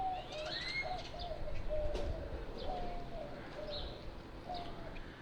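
Pigeons or doves cooing in repeated soft calls at a historic site in Houston, Texas, with faint chirps from other birds over a steady background hum.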